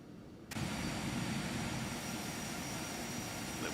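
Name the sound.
Aerobask Phenom 300 jet taxiing, from video game X-Plane 11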